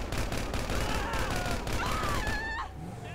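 Gunfire in Grand Theft Auto 5 crackles in a continuous burst of shots through the whole stretch, loud and close, with bits of speech and a rising whine mixed in near the end.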